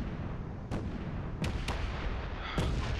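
Modded weapons including a nuke launcher firing at turrets in Space Engineers, producing four sharp booming shots spaced irregularly over a rumbling background.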